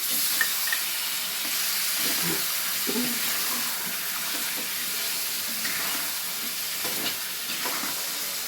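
Potatoes and green peas in a wok over high heat hiss and bubble strongly after a splash of water, with occasional spoon scrapes over a steady steamy sizzle and no talk.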